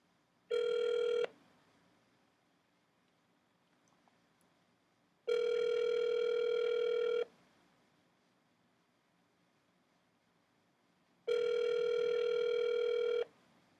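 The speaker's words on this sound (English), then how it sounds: "Dialing now." Ringback tones from a telephone line calling a McDonald's restaurant come in three long, clean buzzing pulses spaced several seconds apart, with near silence between them and no talking.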